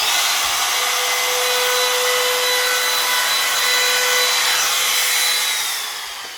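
A router fitted with a micro round cutter trims iron-on edging along a board, giving a steady, close, continuous high whine with a faint tone throughout that eases off near the end.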